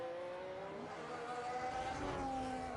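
Ferrari race car engine from a racing video game on the Abu Dhabi circuit, a steady high whine that rises slightly in pitch as it accelerates, continuous and fairly close throughout.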